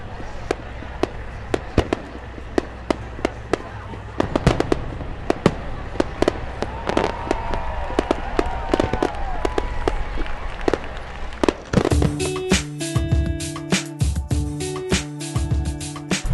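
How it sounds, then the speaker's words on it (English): Fireworks over a bay at night, marking a 100th anniversary, pop and bang in repeated sharp bursts with whistling trails, then build into a dense, loud crackling finale while a crowd murmurs and cheers. "we ended the night to commemorate our 100th anniversary with fireworks over the bay"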